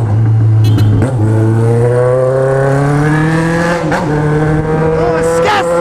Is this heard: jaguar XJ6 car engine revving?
yes